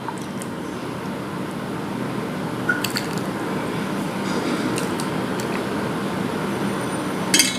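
Milk simmered down for Bangladeshi-style basundi is ladled into a bowl, giving soft wet squishing and dripping over a steady low bubbling, with a few faint clinks.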